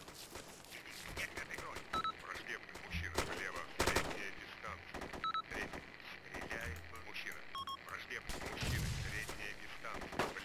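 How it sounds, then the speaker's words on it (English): Gunfire in the Arma 2 military game, with sharp shots cracking at irregular intervals through a steady battlefield din, including a strong burst near the four-second mark and more fire late on, while a voice talks now and then. "Who's shooting at who?"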